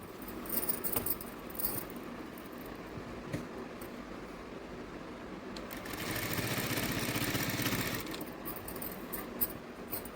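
A sewing machine stitches the fall onto a saree with a steady mechanical whir, swelling louder in the middle stretch amid light clicks and rattles, with no talking.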